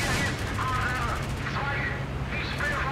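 Tail gun machine-gun fire from a Junkers Ju 88 C6 heavy fighter in IL-2 Great Battles, rapid rattling bursts over a constant engine drone, with someone talking across the shooting.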